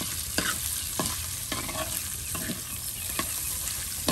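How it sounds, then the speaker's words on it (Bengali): Chicken meat frying in a pan in a village kitchen, a steady sizzle broken by regular scraping strokes of a stirring spoon, close and alone. "এই যে দেখুন মুরগির মাংস ভেজে নেওয়া হচ্ছে"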